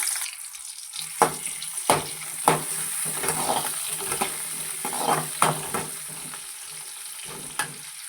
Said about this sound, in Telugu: ఆయిల్ పోసుకున్నాను ప్యాన్ పెట్టుకొని ఇప్పుడు మనం తెల్లగడ్డలు వేసుకుందాం